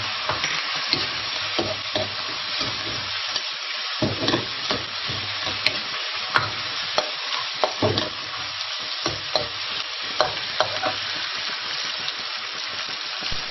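Carrot and beef slices stir-fried in a pan for a boneless grilled fish rice dish, with a steady loud sizzle and repeated scraping stirs of the spatula throughout, no talking.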